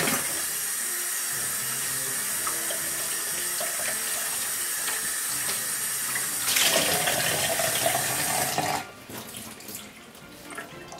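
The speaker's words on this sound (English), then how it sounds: "You want to wash it until all the green colors from the unexposed chemicals are washed up." Tap water runs steadily into a sink, rinsing a cyanotype print clear of unexposed chemicals, a continuous close splashing flow that briefly intensifies and then quiets near the end.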